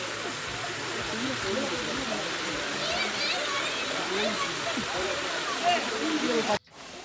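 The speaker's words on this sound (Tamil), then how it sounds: "பார்த்தீங்களா அருவி" Waterfall near the Ponnuthu Amman temple at Anuvavi, a steady broad rushing hiss of falling water that runs continuously at moderate level, then cuts off abruptly near the end.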